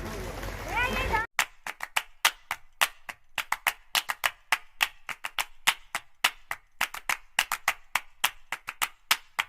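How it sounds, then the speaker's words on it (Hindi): Sharp, evenly spaced claps ring out at a school foundation day ceremony in Supaul, Bihar, following a brief burst of speech, with a steady rhythm that sounds like a few people clapping rather than a full crowd. "तालियां बजे वो कम होगा।"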